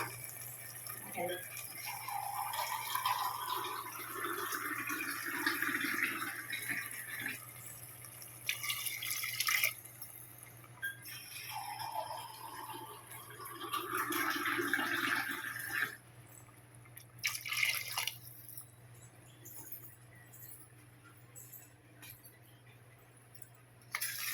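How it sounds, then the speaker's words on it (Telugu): Water is poured into a pot of cooked mutton trotter curry in two long streams, the pitch rising as it fills, with soft clinks in between. "దీన్ని ఇప్పుడు వాటర్ వేసేసుకుందాం."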